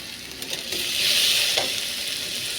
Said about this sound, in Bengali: রসুনটা ভাজা ভাজা হয়ে এলে এবার টমেটো কুচি দিয়ে দেবো